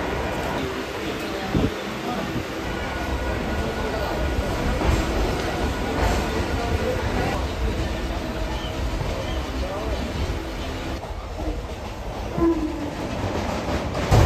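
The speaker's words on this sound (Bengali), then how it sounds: "ট্রেন আমাদের ছেড়ে দিয়েছে 7:40-এ, আর ট্রেন মোটামুটি এখন ফাঁকাই আছে" A passenger train running from Sealdah to Taki Road rumbles steadily with clickety-clack from the wheels and a horn sounding, heard from inside the carriage amid background chatter.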